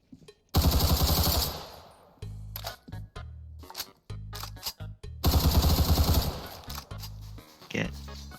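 Rapid automatic gunfire in Roblox Criminality, two loud sustained bursts of fast shots, separated by shorter clipped volleys and brief gaps, close and dominant with a voice talking in between.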